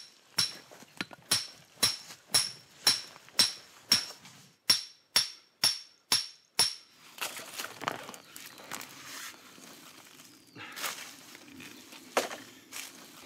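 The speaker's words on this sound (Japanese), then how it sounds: "このナタで根元を傷つけないよう周りから切るように掘っていく。" A machete chops into the ground to dig out a madake bamboo root, about a dozen sharp, evenly spaced strikes close by, followed by softer scraping, rustling and scattered hits in the soil.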